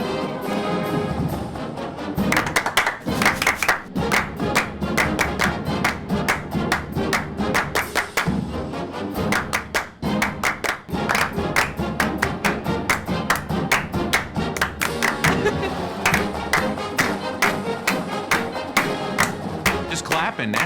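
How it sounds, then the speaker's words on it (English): A group claps a rhythm together at a sports gathering, sharp, loud unison claps in a steady repeating pattern after a short stretch of talk, with some voices and thumps mixed in. "Just clapping now."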